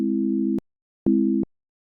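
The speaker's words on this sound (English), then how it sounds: "if I have this chord here, sounds like this in 12 tone equal temperament" Synthesizer chord in 12-tone equal temperament played in Ableton, two sustained tones of identical pitch, the first about half a second long, then a short gap and a second shorter hit, clean and steady.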